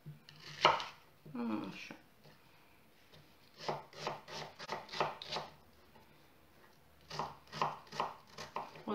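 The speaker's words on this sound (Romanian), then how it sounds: "Și ne tăiem puțină ceapă verde." Green onion is chopped finely with a knife on a board, the quick tapping strokes coming in short rhythmic bursts with pauses between them, and a voice briefly speaks.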